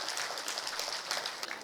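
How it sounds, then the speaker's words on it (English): An audience gives a round of applause for Dr. Deepak Paliwal at a school event launching a mechatronics project, the clapping moderately distant and steady throughout, with no talk over it. "a big round of applause for Dr."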